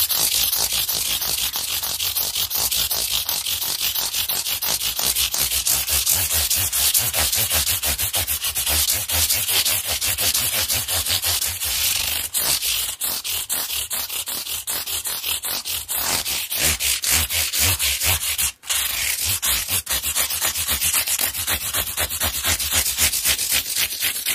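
Close, continuous rubbing of 600-grit sandpaper on the body of a Squier Telecaster Standard guitar, a steady dense rasp with fast back-and-forth strokes running throughout, briefly interrupted by a single sharp dropout near the end.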